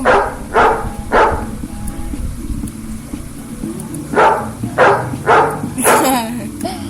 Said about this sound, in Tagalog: Ayun na yung aso!